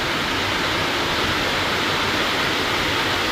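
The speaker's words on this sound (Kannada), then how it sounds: "ಫುಲ್ಲು ಮಳೆ" Heavy monsoon rain pours steadily outside a temple at Maranakatte in coastal Karnataka, a dense, even hiss that stays loud and unbroken throughout with no voices.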